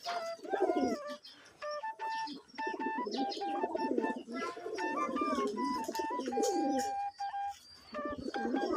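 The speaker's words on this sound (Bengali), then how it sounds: "পানি দেওয়ার সাথে সাথে এগুলো ঝগড়া করবে মারামারি করবে" Pigeons squabble and coo around a dish of bathing water, with repeated throaty coos and short sharp calls overlapping in bursts, close by and fairly loud throughout.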